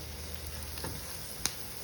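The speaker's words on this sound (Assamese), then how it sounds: "সেইখিনি এনেকৈ ভাজি ল'লোঁ অলপ" Tomatoes and spices fry in a pan with a soft, steady sizzle, a faint stir and one short sharp tap near the end.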